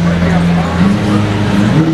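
Mercedes SLS driving past, a loud engine drone with rising tonal pitch, close by, with excited voices talking over it.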